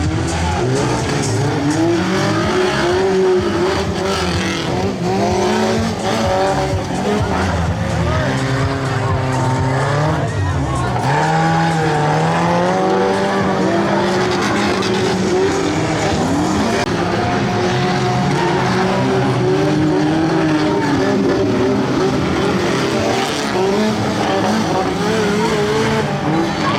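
Stock cars racing a lap at a charity crash-challenge event in Ulmen, with loud continuous engine roar, rising and falling revs and squealing tires, and voices mixed in over the noise.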